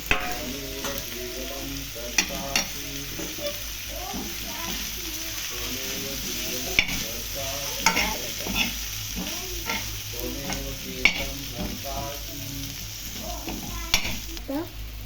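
Finely shredded leftover chapati is stir-fried in a hot pan into chapati noodles, with a constant sizzle broken by repeated spatula scrapes and occasional sharper knocks against the pan, close and moderately loud.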